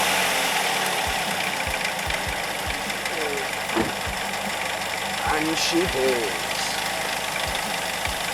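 A car engine runs at idle after a thermostat change on an overheating car, with a steady low rumble and evenly spaced ticking knocks, moderately close. A voice speaks briefly over it.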